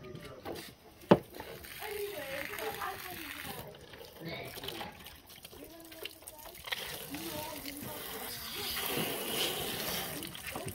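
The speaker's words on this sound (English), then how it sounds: "Wash it with water and that's it." Water splashing and running over a cut rabbit as it is rinsed, irregular trickles and splatters with a few sharp knocks, while someone talks over it.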